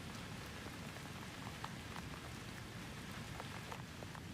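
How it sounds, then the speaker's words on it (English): Steady rain at night pattering on surfaces, a dense, even hiss with scattered distinct drops, moderately quiet and continuous throughout. "The rain was falling harder now, driven sideways by a wind"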